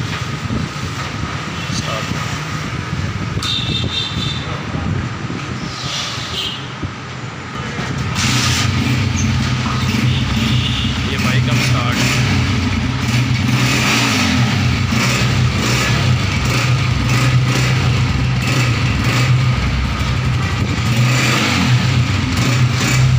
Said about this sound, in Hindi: अब आपको बाइक स्टार्ट करके दिखाते हैं इसका साउंड